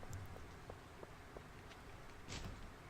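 Soft, steady rain patters through a farming game's outdoor scene in Stardew Valley, a faint continuous hiss with a few light taps and no one talking.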